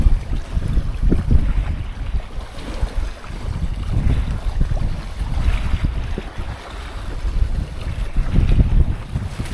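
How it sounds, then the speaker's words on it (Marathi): Surf rolls in and breaks on the shore in repeated broad surges with steady wind noise, loud and close, with no voices. "ह्या इतक्या लाटा आहे बघा माझ्या मागं"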